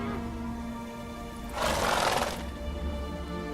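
Roach, a horse in the video game The Witcher 3, gives a loud, noisy neigh of about one second that rises over a steady game soundtrack.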